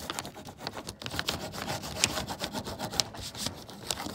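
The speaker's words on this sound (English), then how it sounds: "we could take the backer sheet if we wanted and then rub it down more" A backer sheet is rubbed by hand over an IOD transfer laid on a wooden dresser front, giving a soft, quiet, continuous scraping and rubbing with faint irregular strokes and no talking.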